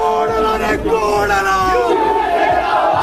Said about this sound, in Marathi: सर्व शिवसैनिक जे येते या ठिकाणी जल्लोष जो येतो साजरा करताना आपल्याला पाहायला मिळत आहेत